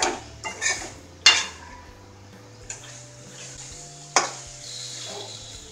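Andhra prawn curry being stirred in a pan after cumin and coriander powder go in, with a few sharp metal spoon clanks against the vessel over a soft, steady background hiss.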